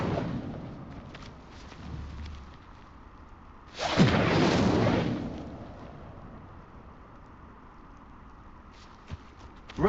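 Casting the Incendio fire spell in Hogwarts Legacy produces one sudden whooshing burst of flame, loud and close, lasting about two seconds over a low ambient rumble.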